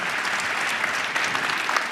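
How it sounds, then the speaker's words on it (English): Audience applauding after a talk by Michele Norris, a dense, even burst of many hands clapping at steady loudness throughout. "can you all do a big round of applause?"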